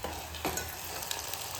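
Potatoes fry in a pan with a faint, steady sizzle, broken by a brief scrape of stirring, all quiet and alone without voices.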